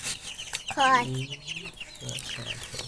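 About fifteen broiler chickens cluck and squawk in a pen on a poultry farm. The calls are close and irregular, with one louder drawn-out squawk, and people talk nearby.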